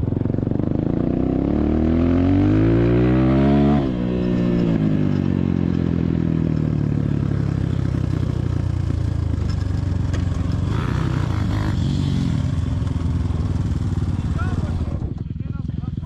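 ERZ Pro 2022 motorcycle ridden off-road on rough terrain: a loud, close engine drone with rising revs and shifting pitch around the middle, clattering and scraping over the ground, continuous throughout.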